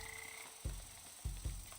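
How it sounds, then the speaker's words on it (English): A frog croaks in the video game Wytchwood, three short low croaks in an uneven rhythm, fairly faint, over a soft game ambience with a brief tone at the start. "Oh, there's a frog."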